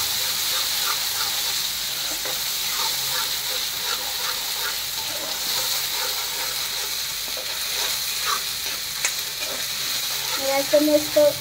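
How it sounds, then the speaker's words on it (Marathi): Onion masala paste, ground with cumin, sautés in a pan with a continuous frying hiss and soft stirring scrapes, ending in a few louder clatters near the end. "आता आपण हे केलेलं वाटण जे आहे ते त्याच्यात परतून घेऊया"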